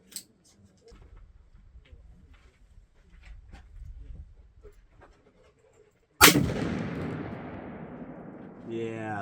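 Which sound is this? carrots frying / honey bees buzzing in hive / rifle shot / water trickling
rifle shot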